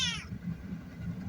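A cat meows once at the start, a short harmonic cry that fades quickly, followed by low rumbling background noise with no talking.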